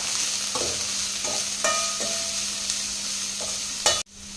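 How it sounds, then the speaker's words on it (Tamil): Vegetables sizzle steadily in a hot pan while a spoon scrapes and stirs in a few irregular strokes, with a sharp clatter near the end. "இப்போ நல்லா கலந்து விட்டுக்கலாம்."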